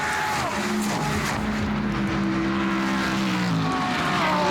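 Race cars climb through Eau Rouge at Spa during the 2014 24 Hours, their engines droning and rising in pitch as several pass, layered over one another against a constant loud rush of track noise.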